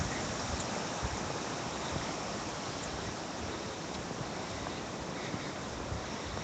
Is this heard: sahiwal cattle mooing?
no